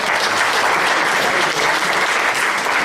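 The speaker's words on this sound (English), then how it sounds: "Give a clap." An audience at a Glamorgan West area commissioner strategy meeting claps in dense, sustained applause, loud and even from start to end, with no speech over it.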